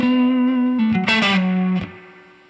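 A short electric guitar blues lick in B natural minor with a bent, sliding note and a few quick picked notes, played with effects and distortion, close and fading out at the end.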